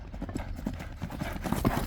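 Hooves of a horse, a white-blazed Kara-kashka, clip-clop in a steady rhythm, close and moderately loud with a faint background murmur.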